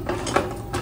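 New kitchen knives clink and scrape against a plate and bowl while red onion is readied for chopping in a home kitchen, a few light metallic taps over steady low room hum, with no talking.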